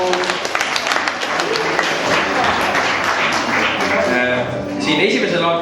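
Sustained applause fills a teachers' day celebration hall, dense clapping from a large crowd running loud and steady throughout with voices mixed in.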